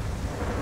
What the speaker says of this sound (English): it is pouring down rain